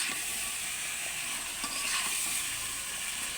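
Spices fry in a pan for a chicken roast, giving a steady, close hiss and crackle of sizzling oil that runs unbroken throughout with no talking.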